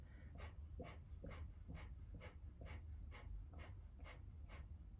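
Rapid, forceful pumping breaths of Kundalini yoga breathing, about ten sharp rhythmic exhalations in five seconds, close and steady over a low background hum.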